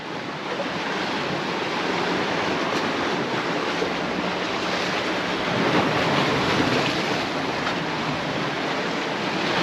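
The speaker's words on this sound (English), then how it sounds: "It's must have been some wind over the last few days to bring the waves in." Surf rolling onto the beach at Costa de la Calma, Mallorca, blended with steady wind buffeting the microphone: a constant, loud, full wash of breaking waves with no voices.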